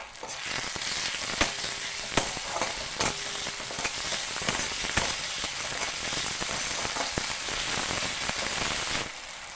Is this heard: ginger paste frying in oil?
yes